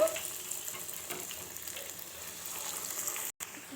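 Potato snacks fry in a pan of hot oil with a steady, soft sizzle close by, and a brief silent gap near the end.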